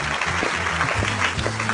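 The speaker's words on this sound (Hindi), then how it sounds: "जोरदार तालियां और जोरदार" Loud applause greeting a director's arrival, a thick burst of crowd clapping with low music pulsing underneath, heard briefly and up close.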